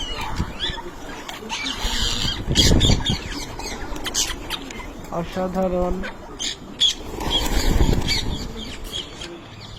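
Pet parrots squawk and chatter nearby in short, harsh bursts, including a run of rapid repeated calls. A voice talks between the bird sounds.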